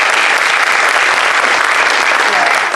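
A presentation audience on bail reform applauds loudly and densely, a steady wash of many hands clapping throughout, close and uninterrupted.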